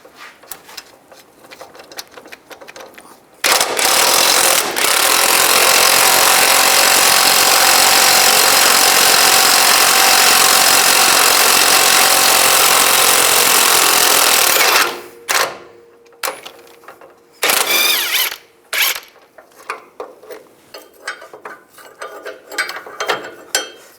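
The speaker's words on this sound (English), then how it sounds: "We want to use a 19mm wrench on this side and a 19mm socket from the other side" Rapid mechanical ratcheting from a 19mm wrench and socket loosening a front strut bolt nut on a 2005-15 Nissan Xterra, a loud continuous burst lasting about ten seconds, then scattered shorter clicks and clanks.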